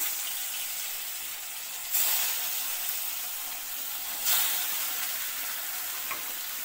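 Small fish fry in hot oil in a pan for a Bengali curry, a continuous loud hissing sizzle that surges twice as more pieces go in, with no voices.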